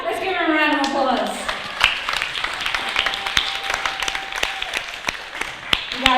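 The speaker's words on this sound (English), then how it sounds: "Let's give her a round of applause." A small group at a tapping session gives a short round of applause after a demonstration; a voice talks at the start before scattered, fairly sparse claps continue to the end.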